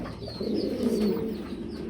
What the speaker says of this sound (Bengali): প্রচণ্ড চেতা কবুতর প্রচণ্ড খেপা